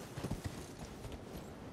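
Faint, quick clip-clop of a ridden mount's hooves in the video game Elden Ring, a few soft steps close together, with nobody speaking.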